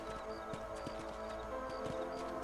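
Horse hooves in the Red Dead Redemption video game, a rhythmic clip-clop of a riding horse over a steady background bed of music, moderately close, no talking.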